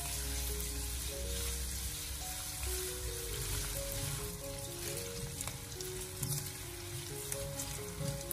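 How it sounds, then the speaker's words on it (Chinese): Sliced pork belly stir-fries slowly over low heat in hot oil in a wok, producing a soft, even, continuous sizzle with faint crackles and no talking. "油热以后我们再把切好的五花肉放进锅中，开小火给它慢慢的翻炒一下"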